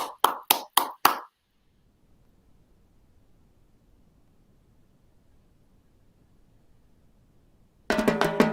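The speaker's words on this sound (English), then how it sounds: "Give a big virtual round of applause for these change makers." A short burst of five crisp hand claps at a gala celebration, close and evenly spaced, followed by near silence before a loud noisy swell.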